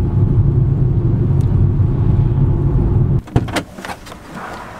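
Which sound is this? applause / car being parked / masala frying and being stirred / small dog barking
car being parked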